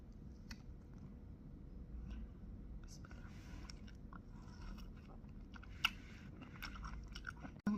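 Close, quiet chewing of a sour-sweet fruit, with irregular bites, wet crunches and squishy mastication running steadily, while a soft whispered voice comes and goes in the background.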